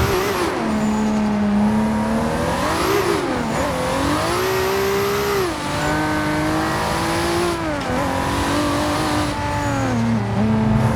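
Toyota Supra tuned to 1000hp on the widest rear tyres in Forza Horizon 2, spinning its wheels in a loud, sustained burnout: the engine howls at high revs, rising and dipping in pitch over a constant tire-squeal wash.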